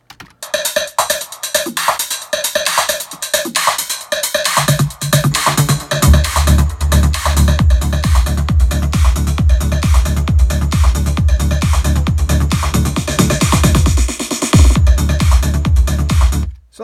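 Driving electronic dance music: a crisp percussion loop opens, then a deep thumping kick and heavy bass join in, loud and steady.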